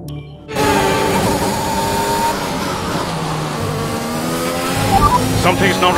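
An F1 race car engine in F1 2021 at the Australian Grand Prix, loud and close with a droning, shifting whine as the gearbox loses a gear, and voices talking over it.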